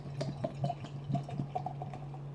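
Brew Gentlemen Golden Panda beer glugs from a growler in a series of irregular gurgles and splashes over a low steady hum, close and fairly quiet.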